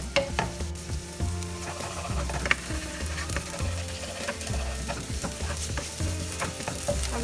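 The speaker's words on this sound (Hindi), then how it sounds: "आलू भी स्लाइट गोल्डन कलर आने तक हमें फ्राई करना है।" Diced potatoes fry in hot oil in a pan, cooked for sabudana khichdi until slightly golden, with a steady loud sizzle and repeated stirring scrapes throughout.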